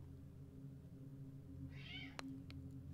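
A cat meows softly in a brief drawn-out call, fairly close but quiet over a low steady room hum, followed by a couple of sharp clicks.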